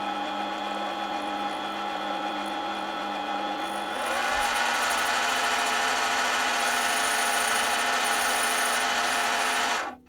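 A solid ebony ring with brass wire inlay spins on a lathe as glue is sanded off, a steady whirring hum that turns into a louder, brighter rubbing hiss partway through before stopping abruptly.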